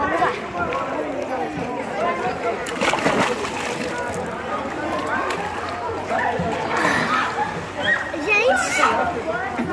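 A child jumps into a swimming pool with a loud splash, water sloshing afterward while people chatter and speak nearby.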